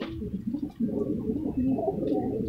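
Pigeons, kept in a loft where they have laid eggs, give low, soft cooing throughout, a steady murmur of overlapping calls at close range with no one talking.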